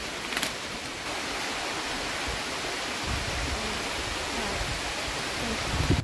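Heavy rain falls outdoors by a jackfruit tree, a dense, continuous hiss that stays loud and even from start to finish.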